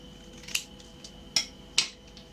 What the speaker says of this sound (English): you need to remove it using the scissors